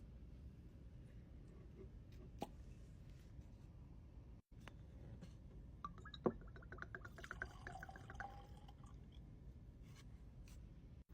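Whiskey is poured into a glass, a faint, short liquid trickle with a few soft clinks standing out over a quiet room hiss.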